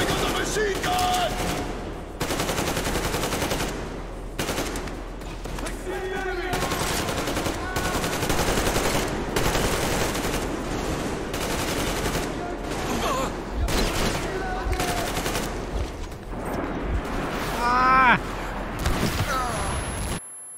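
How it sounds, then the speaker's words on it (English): Sustained automatic machine gun fire in Metro Exodus, dense overlapping bursts filling most of the stretch with brief gaps, mixed with shouting voices and game combat noise throughout. "Hands up! I got a machine gun!"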